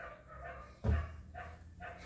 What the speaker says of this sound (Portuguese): Os cachorros resolveram latir aí no meu vídeo.